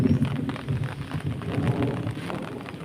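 Monsoon rain pours steadily while a low thunder rumble rolls underneath, a dense continuous wash with no voices.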